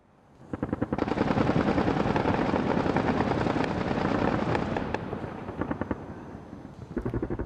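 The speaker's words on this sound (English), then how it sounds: "I have heard the anti-aircraft start shooting around 2:35 early in the morning" Rapid bursts of heavy anti-aircraft gunfire rattle continuously for several seconds in the early morning dark around Tripoli, echoing across a wide open space.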